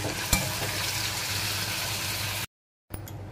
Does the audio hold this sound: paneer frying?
yes